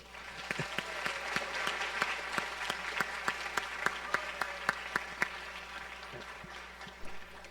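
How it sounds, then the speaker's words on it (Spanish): Audience applause after a speaker introduces a doctor at a talk on wages in Latin America and the Caribbean: steady clapping from a crowd, with sharper individual claps standing out, fading near the end. "Un aplauso, por favor."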